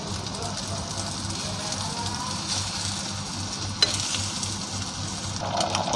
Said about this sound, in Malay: kita goreng telur dulu